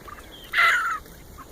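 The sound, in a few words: chickens in a new chicken yard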